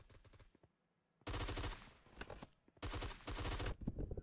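Suppressed gunfire in the video game BRM5: two rapid automatic bursts of thick, weighty shots, each lasting under a second, separated by quieter gaps with lighter clicks and movement.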